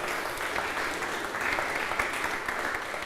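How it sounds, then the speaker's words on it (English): Sustained applause from an audience, steady and full throughout, with no voices standing out. "let's just give them a round of applause"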